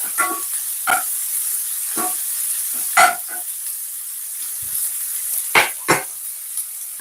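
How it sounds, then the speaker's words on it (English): Vegetables for Jamaican steamed callaloo sweat in a pan with a steady background sizzle, broken by several sharp scraping stirs and utensil knocks at irregular intervals, close and moderately loud, with no talking. "This technique is called sweating off, or you're sauteing your vegetable off."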